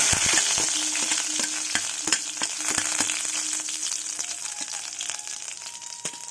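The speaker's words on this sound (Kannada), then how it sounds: "ಈಗ ಮೆಣಸು ಹಾಕ್ತಾಯಿದ್ದೀನಿ ಕರಿಬೇವು ಇದ್ದೀನಿ" Pepper and curry leaves fry in a pan with a steady, loud sizzle, broken by sharp crackles and pops and the occasional scrape of stirring.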